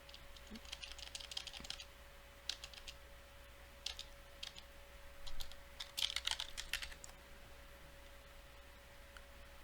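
Someone types a PowerShell remoting command on a computer keyboard: soft, quick key clicks in short bursts over a faint steady hum, with no talk.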